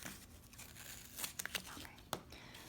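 A few quick tearing rips of tape close to the microphone, soft and brief, with faint rustling around them.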